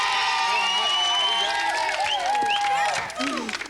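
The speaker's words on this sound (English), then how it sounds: "Give him a round of applause." Studio audience applauding with some cheering and whoops at a live TV show, a steady dense burst of clapping that fills the room and begins to fade near the end, with a voice speaking over it.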